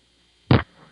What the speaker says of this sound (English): That was the sound of the dime going in.